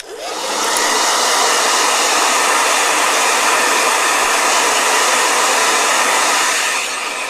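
A blow dryer runs steadily and loudly for several seconds, a continuous broadband whoosh that starts abruptly, holds an even level throughout and cuts off near the end, with no voices over it.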